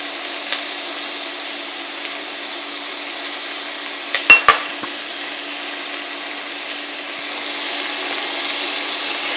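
Ingredients for Hungarian goulash frying in a pan make a steady, soft sizzle throughout, broken by a few sharp clicks and clatters of a utensil partway through.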